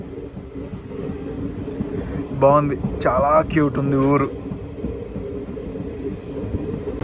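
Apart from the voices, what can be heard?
DEMU train running, Secunderabad to Siddipet line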